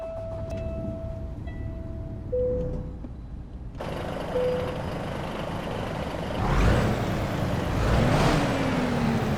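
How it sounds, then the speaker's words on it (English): A modded truck engine in American Truck Simulator runs alone, with a brief electronic beep early on, then engine noise that swells in two rising surges as the truck revs and pulls away. "Now, listen to this engine, alright?"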